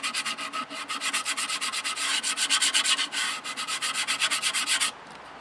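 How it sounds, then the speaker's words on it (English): Steady, rhythmic hand sanding of a rough part, dozens of quick back-and-forth rubbing strokes close by, continuous and fairly loud with no talk, stopping abruptly near the end. "just gonna sand this a little bit here."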